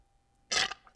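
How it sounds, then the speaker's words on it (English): A person burps once, a short loud eructation that swells and fades, followed by a brief fainter throaty sound at the end, with a quiet room behind it. "I have to burp so bad right now"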